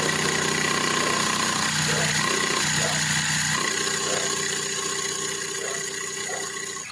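An engine keeps running as a steady, loud, droning mechanical hum with a faint rhythmic pulse throughout, close by and unbroken, easing slightly near the end, with no speech.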